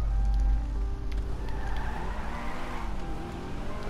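A Truffade Nero supercar, modelled on the Bugatti Chiron, drives fast in a video game. Its engine roars and climbs in pitch under a rushing wind and tire noise, with a brief skid-like squeal.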